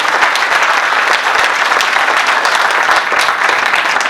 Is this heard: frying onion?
no